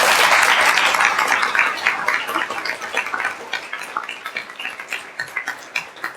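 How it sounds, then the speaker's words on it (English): A crowd at an annual recognition dinner applauds loudly at first, the clapping gradually thinning into scattered, uneven claps as it fades. "So let's give them one more round of applause."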